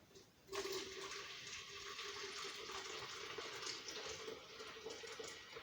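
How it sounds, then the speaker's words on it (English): Freshly boiled water poured from a kettle for sorrel hibiscus tea, a steady continuous splashing pour that starts abruptly and runs on loud and close, with no talking. "So I'm going to pour the whole kettle."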